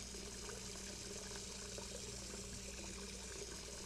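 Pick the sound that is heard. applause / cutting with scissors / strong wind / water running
water running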